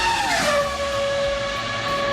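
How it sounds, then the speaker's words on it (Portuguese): A Formula 1 V10 screams at very high RPM, close and loud, with a sharp pitch shift early on before holding a piercing, sustained howl through the rest of the short burst. "o V10 não é totalmente balanceado, então ele soa mais interessante que o ronronar suave de um V12."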